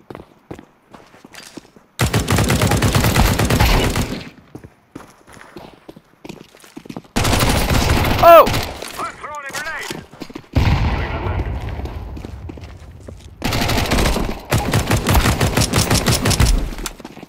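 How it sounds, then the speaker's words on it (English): Rifle fire in the video game Counter Strike 2, several loud bursts of rapid automatic shots separated by quieter gaps with footsteps and clicks. "Stand still when shooting a rifle."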